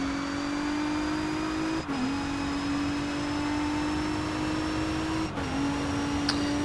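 A race car engine in the racing video game DTM Race Driver 3 holds a loud, steady high drone, dipping briefly twice at gear shifts before climbing back, with no talk.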